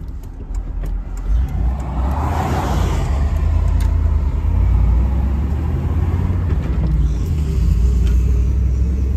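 An old Chevy truck engine drones with a steady low rumble from inside the cab while driving, with a brief rise in pitch as it works through a gear shift, loud and continuous.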